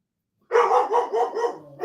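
A dog barks in a quick run of five or six loud, close barks in a steady rhythm, alone with no talking over it.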